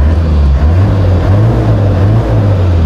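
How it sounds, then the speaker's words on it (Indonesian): A modified Opel Blazer turbo diesel engine runs loud and close, giving a steady, deep, rumbling drone with slight rhythmic pulsing and no voices. "Kita akan start untuk engine-nya, guys."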